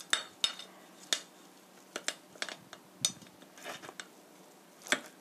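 A knife cutting a Korean dumpling pancake (mandu-jeon) on a plate, giving a series of soft, sharp taps and light scrapes against the dish, close and quiet with short pauses between strokes.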